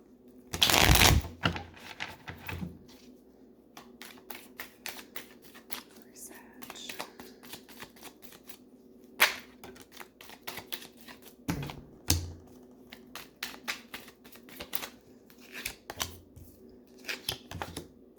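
Tarot cards are shuffled by hand in repeated quick riffling bursts with soft taps and slides between them, close up, under quiet speech.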